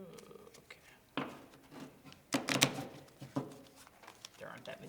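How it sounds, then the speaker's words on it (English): A small deck of about a dozen game cards being shuffled at a tabletop game of Coup, several quick riffling and rustling bursts, fairly faint, with voices nearby. "we're gonna take all these and we're gonna shuffle them up here."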